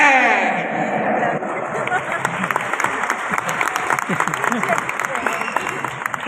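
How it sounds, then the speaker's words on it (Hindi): Clapping from the audience at a Daraz summit event, a steady patter of many hands lasting several seconds, with crowd murmur underneath. "ये जिन लोगों ने हल्की तालियां बजाई है"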